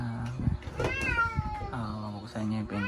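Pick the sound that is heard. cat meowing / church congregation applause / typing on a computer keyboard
cat meowing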